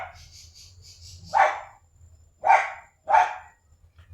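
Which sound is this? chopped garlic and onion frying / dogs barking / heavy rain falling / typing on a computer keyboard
dogs barking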